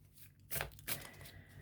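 Tarot cards being shuffled close by, two brief crisp riffling bursts a moment apart against a quiet room.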